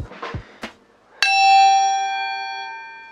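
A 6-inch splash cymbal on a drum kit struck once after a few small knocks and handling sounds, giving a bright bell-like ring that sustains and slowly decays, close and fairly loud.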